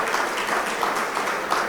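Dense, sustained applause from an audience at a school golf event in Tobago, a continuous bright rush of many hands clapping at once, even and fairly strong throughout.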